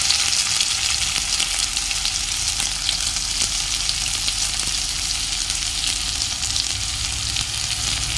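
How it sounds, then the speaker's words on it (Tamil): Cumin, onion and curry leaves frying in hot oil for an egg gravy, a loud, dense and steady sizzle close up with faint stirring underneath and no voices. "சீரகம், வெங்காயம், கருவேப்பிலை எல்லாம் போட்டுக்கலாம்."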